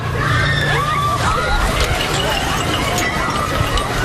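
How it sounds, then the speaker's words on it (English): Panicked crowd stampede at the Place de la République in Paris: a dense, loud roar of many screaming voices and running feet fills the scene continuously, close and chaotic. "A rush, screams, thousands begin running."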